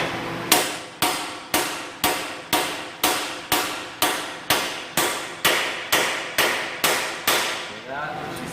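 A 2004 Ford E150 axle seal being driven in with a hammer, about fifteen evenly spaced sharp metallic blows, loud and close, the ringing tone shifting near the end as the seal bottoms out.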